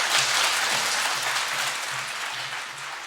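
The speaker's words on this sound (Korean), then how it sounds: "우리 한 번 더 큰 박수로" Congregation applause during a Sunday worship service at a Korean church, steady crowd clapping over a low repeating musical bass line from the sanctuary.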